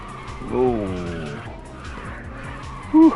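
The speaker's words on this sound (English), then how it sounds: "It really just wants to go into a drift on its own sometimes" A car drifts in the racing video game Ridge Racer 2, its tires squealing in a loud skid that swells, fades, then flares again briefly near the end over the steady engine drone.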